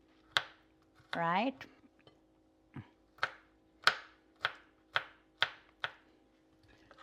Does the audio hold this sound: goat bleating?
no